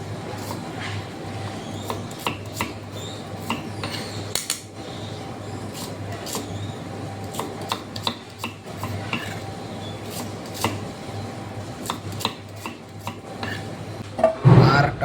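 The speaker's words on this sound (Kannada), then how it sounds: "ಈಗ ನಾವು ಉಳ್ಳಾಗಡ್ಡಿ ಕಟ್ ಮಾಡ್ತಿದ್ದೇವೆ." A knife slicing onions in a home kitchen while cooking North Karnataka avalakki gives a string of light, irregular taps and scrapes on a board, close and fairly quiet with no talk.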